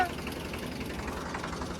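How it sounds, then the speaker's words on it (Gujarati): A tractor engine idles close by with a low, steady knocking rumble, running continuously at moderate level. "હિતેશભાઈ આવું ટ્રેક્ટર પર બેસી ગયા છે એટલે અવાજ થોડો ઘણો કરશી"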